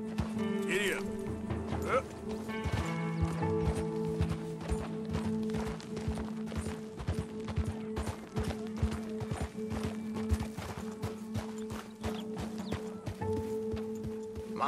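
Horse hooves clip-clopping at a steady riding pace in the Red Dead Redemption 2 video game, continuous and close throughout, layered over game music and ambient sound with occasional talk.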